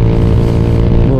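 Motorcycle with an open exhaust revving on the road, a loud, close, raspy buzzing engine drone held steadily for about a second.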